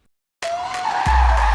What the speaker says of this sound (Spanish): El coche dispone incluso de un modo drift para derrapar con él de manera controlada